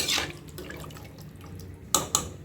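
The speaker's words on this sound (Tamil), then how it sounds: "இப்போ இன்னும் கொஞ்சம் தண்ணி சேர்க்கணும் தண்ணி சேர்த்துக்கலாம்" Water is poured into a pot of shrimp pasta biryani, a quick splash at the start and two more short splashes near the end, close and fairly quiet between.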